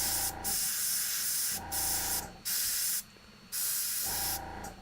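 An airbrush sprays paint onto a Warhammer 40k Kill Team miniature in steady hissing bursts of a second or so, separated by short pauses, loud and close, with no voices.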